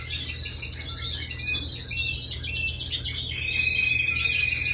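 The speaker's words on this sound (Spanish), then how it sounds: "Estos van a ser los tremendos pájaros" Large young birds, fledglings bred from a white father and green mother, chirp and trill in rapid repeated bursts, close and fairly loud, over a low steady background hum with no voices.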